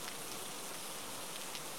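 Rain falls steadily in the dark of night, an even, dense patter spread across the surroundings with no voices heard.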